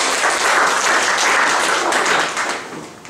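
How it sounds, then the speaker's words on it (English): Audience applause at an arts funding forum, a dense sustained burst of clapping from a crowd that holds steady and then starts to thin toward the end, with no voices over it. "let's give Penny a round of applause and welcome"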